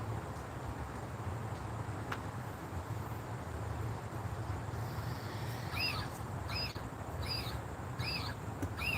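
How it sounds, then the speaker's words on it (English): A fake owl pest deterrent in a garden gives a run of evenly spaced high electronic chirps in the second half, faint over a steady outdoor hum of insects and breeze. "If y'all hear that chirping, we have a fake owl who actually does do his job of keeping the pests out of the garden"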